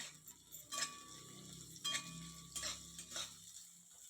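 A spoon stirs a spoonful each of cumin seeds and white sesame seeds in a pan for Kolhapuri chicken masala, making a few close, separate scraping and clinking strokes.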